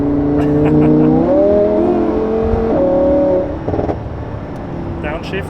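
A Mercedes-AMG GT R engine revs loudly with rising pitch, holds, climbs again, then drops off as the throttle lifts, with a few crackles near the end.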